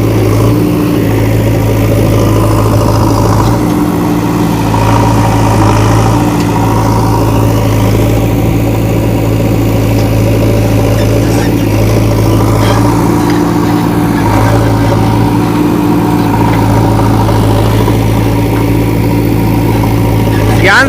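A JCB 3DX Xtra backhoe loader's diesel engine runs steadily, a loud, continuous low-pitched drone with slight rises in speed, while someone talks over it.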